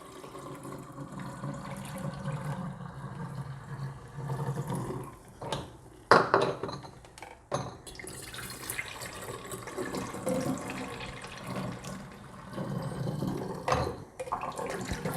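Water kefir is poured into a row of bottles, liquid splashing and trickling at close range with a few louder clunks and gurgles midway, fading and rising again as each bottle fills.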